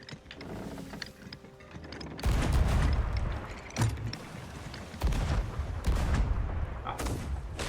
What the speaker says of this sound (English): Starboard guns fire at your discretion.